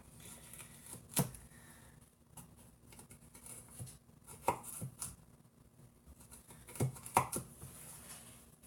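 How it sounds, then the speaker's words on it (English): Vegetables being chopped with a knife on a cutting board for a pot pie, irregular clusters of quick taps and sharper knocks, unhurried and close. "My chopping is not efficient right now,"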